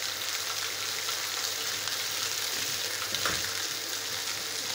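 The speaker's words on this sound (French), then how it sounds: "Le poivron sous l'eau pour enlever les petites graines." A bell pepper rinsed under a running kitchen tap, a steady broadband hiss of water spraying and splashing close by, continuous for the whole stretch with a brief louder splash near the end.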